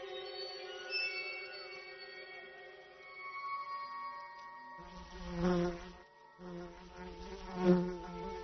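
An agitated wasp attacking ants buzzes in a sustained, tonal drone with wavering pitch, joined midway by louder pulsing swells.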